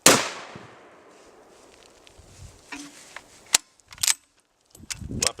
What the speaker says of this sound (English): in the event of an accidental discharge with the 308 caliber rifle, the projectile was trapped in the IWSP rifle only pad